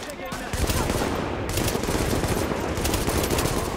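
Sustained rapid gunfire in the shooter The Division, a dense continuous crackle of automatic weapons close by, with faint talk mixed underneath.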